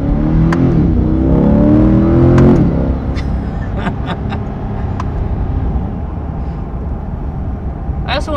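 A 2022 Chevrolet Corvette Stingray in sport mode revs hard near the start, its engine rising in pitch and then settling into a steady cabin drone as someone talks over it.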